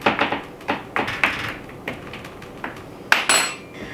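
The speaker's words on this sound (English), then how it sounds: "I need a fork. So I'm just going to dock it" A fork pricks gluten-free pizza crust dough on a cookie sheet in a series of sharp, light metallic taps and clinks, about a dozen in an uneven rhythm, close and fairly quiet with no talking.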